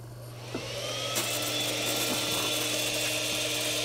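A Castle speed controller's cooling fan spins up on a Soxos 700 RC helicopter, a steady close electric whine with a faint hum that starts about half a second in and holds evenly with no talk.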